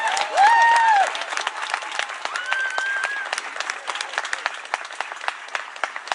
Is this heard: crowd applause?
yes